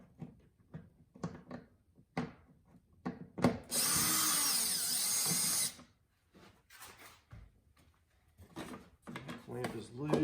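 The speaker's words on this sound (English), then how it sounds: "You loosen up the intake elbow, so we will use the 7mm" Socket ratchet work on an Audi B9 S4/S5/SQ5 engine bay, using a 7mm socket to loosen the intake elbow clamp: clicks and short mechanical bursts, with a loud sustained whirring stretch in the middle and talk in between.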